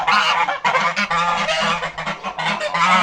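Geese honk loudly and repeatedly nearby, a noisy overlapping chorus of harsh calls with barely a pause.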